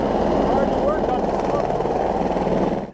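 A helicopter carrying captured desert bighorn sheep thrums steadily nearby, its rotor chop forming a constant pulsing drone beneath a narrator's voice for about three seconds.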